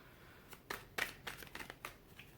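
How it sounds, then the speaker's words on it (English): Tarot cards being shuffled by hand, a quiet run of soft riffling bursts with two sharper snaps near the start, close and faint with no talk. "One more shuffle."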